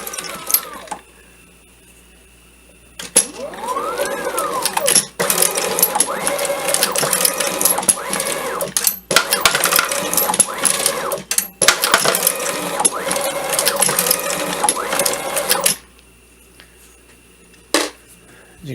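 An AmmoBot case extractor machine runs with dense, rapid mechanical clatter and rattling that comes in several long bursts separated by short pauses. It then stops, leaving near silence broken by one brief click.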